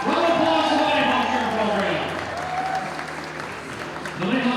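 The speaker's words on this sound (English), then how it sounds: "Round of applause for the Nighthawk" A gym crowd at a high school basketball senior night applauds the Nighthawk Cheer Program, steady loud clapping that fades and swells again, with an announcer talking over it.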